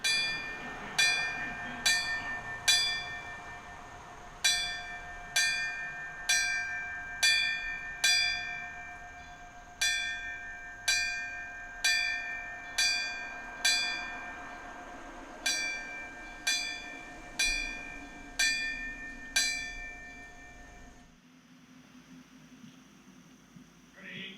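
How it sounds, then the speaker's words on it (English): A single alarm bell struck in slow, evenly spaced strokes at a 9/11 remembrance ceremony, each ringing clear and then fading, repeated many times before falling quiet. "sound the alarm bell, the last call"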